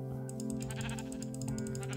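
A Minecraft sheep bleats faintly under a steady bed of game music and ambient tones, with no talking.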